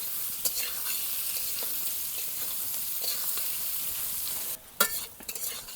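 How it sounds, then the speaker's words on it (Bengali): Capsicum for village-style chilli chicken is stirred in a hot frying pan, giving a steady, even sizzle with light spatula scrapes. The sizzle briefly drops away near the end before a few sharp clatters. "ক্যাপসিকামগুলো শেষে দিয়ে দেব, দিয়ে ভালো করে নেড়ে নিব।"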